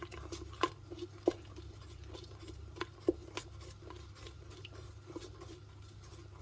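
Spoon stirring a pot of Tunisian mouloukhia stew with harissa, soft wet scraping and a few light clinks against the pot, quiet and close, with a low background hum.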